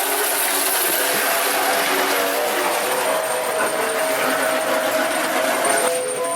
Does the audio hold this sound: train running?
yes